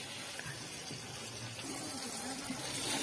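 Water is poured into a wok over raw chicken to wash it, giving a steady splashing, running-water wash that stays fairly faint and fills the whole stretch without speech.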